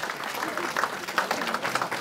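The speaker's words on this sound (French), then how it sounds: "Applaudissez pour le Seigneur" A church congregation at a baptism claps together in a short, fairly quiet burst, with faint voices mixed into the applause.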